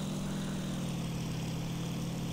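WWII propeller aircraft engines in IL-2 Sturmovik drone steadily and evenly during a German flight mission, a continuous low rumble with no voices.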